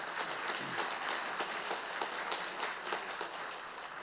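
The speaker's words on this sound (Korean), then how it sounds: "네, 큰 박수 부탁드립니다." Audience applause at the founding assembly of a commemorative society for independence activist Gye Yeon-su: steady, dense clapping from a seated crowd fills the hall evenly for the full stretch, with no voices over it.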